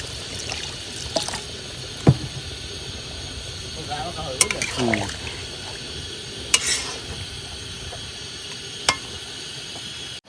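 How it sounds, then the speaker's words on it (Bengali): Water is poured into pan-cooked spiced meat, producing a brief splashing sizzle midway over a low background hiss and scattered clinks, while people talk nearby. "জল দিয়ে দিলাম"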